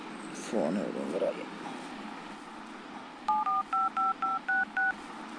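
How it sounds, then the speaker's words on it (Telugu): A phone number being dialed, with a quick run of about seven short, evenly spaced keypad tones that ring out clearly after a brief vocal murmur. "ఫోన్"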